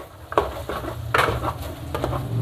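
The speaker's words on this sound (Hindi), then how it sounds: "अब इसको भी हम करेंगे मिक्स" A spoon stirs a potato and egg mixture with turmeric in a pan, making several scraping, clattering strokes over a light sizzle, close and moderately loud.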